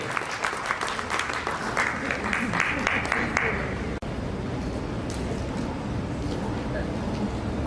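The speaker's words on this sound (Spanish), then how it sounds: "La bienvenida, con el aplauso de ustedes, es para el señor Alonso Saavedra, gerente de CAMS." Audience applause welcoming a guest speaker, the CAMS manager, at a talk on plastic recycling, a dense round of clapping over the first half that settles into a low murmuring room hum.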